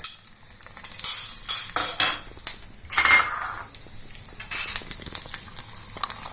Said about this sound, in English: So once the cumin seeds spitters, add ginger and garlic